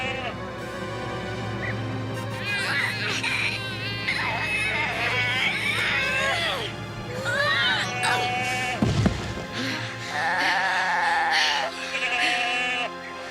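A goat on a mountain cliffside bleats repeatedly in wavering, quavering cries, close and loud, over background music with people shouting nearby.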